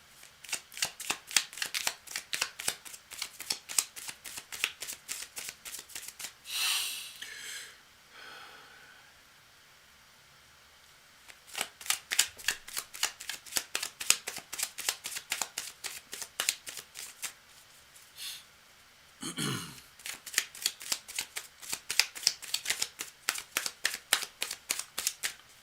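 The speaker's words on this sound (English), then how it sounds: "cards are pretty well shuffled" Tarot cards shuffled close by in rapid, crisp riffling bursts, two long runs separated by a short pause with a breath or brief rustle in between; no voices.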